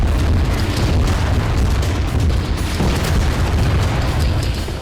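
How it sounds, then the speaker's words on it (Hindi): Rocket fire in ground combat in Gaza, aimed at advancing armored vehicles, makes a loud, dense, continuous roar of booms and blasts that fills the whole stretch, with no speech. "हमास के लड़ाके उस पर इस तरह से रॉकेट बरसा रहे हैं।"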